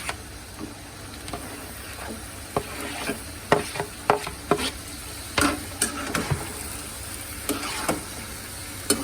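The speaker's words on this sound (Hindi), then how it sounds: "अब मैं इसके अंदर ये टमाटर जो मैंने काटे हैं सब इसी के अंदर डाल दूँगी" Sizzling and frying in a pan with scattered clatter and stirring taps, as chopped tomatoes are tipped in for a beef karahi and moved around over high heat; no talking.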